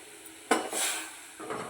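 A spoon knocks and scrapes against a pot while sago payasam with grated tender coconut is stirred, with one sharp clink followed by a soft swishing scrape and a second lighter scrape.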